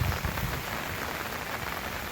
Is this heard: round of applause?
no